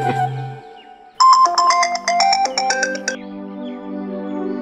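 A phone rings with an incoming call, a bright electronic ringtone playing a repeated melodic phrase for about two seconds, loud and close, followed by a lingering tonal ring in a quiet room.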